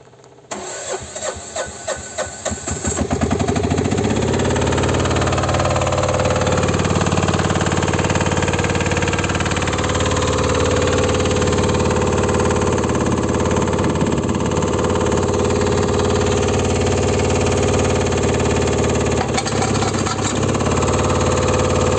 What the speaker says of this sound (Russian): Вот, сейчас запустим, проверим, послушаем, как работает мотор.